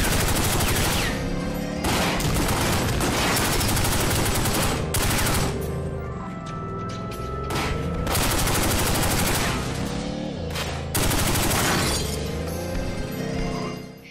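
Rapid Tommy gun fire rattles through a compound shootout in The Godfather video game, long loud bursts broken by brief pauses, with shattering debris mixed in and no speech.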